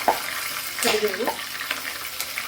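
Curry leaves with mustard seeds and cumin hit hot oil in a pan, giving a brief close crackle and sizzle with a short spitting burst, no talk over it.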